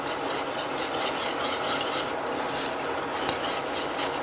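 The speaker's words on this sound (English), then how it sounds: "You're just going to be stirring the whole time" A spoon scrapes and rasps steadily around a pan as a mixture thickens over medium-high heat, a continuous close rubbing with no voices.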